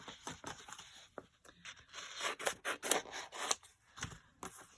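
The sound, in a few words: scissors cutting out paper for collage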